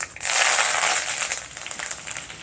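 Curry leaves dropped into hot oil with chana dal, urad dal, mustard seeds and dried red chilli for a tempering, bursting into a loud close crackling sputter that eases off.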